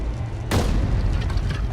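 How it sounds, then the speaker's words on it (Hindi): A petrol bomb explodes in an action film scene, a sudden loud boom bursting in over low rumble, followed by a second sharp burst at the end. "वो पेट्रोल बम फेंक रहे हैं।"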